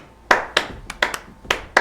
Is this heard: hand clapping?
yes